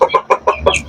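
Basilan breed chickens clucking up close, five short loud clucks in quick succession.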